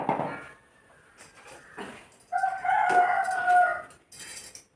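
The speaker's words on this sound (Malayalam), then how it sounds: "കോഴിയുടെ കരച്ചിൽ കോഴി കൂകട് കേട്ടാൽ വിചാരിക്കും പുലർച്ചെയാണെന്നോ." A rooster crows nearby in a home backyard, a loud drawn-out call rising and holding for over a second amid faint background rustles.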